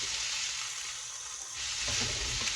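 Cauliflower frying in a pan, cooked in place of chicken for a butter chicken dish: a steady close sizzle that swells louder partway through as pieces are stirred or added.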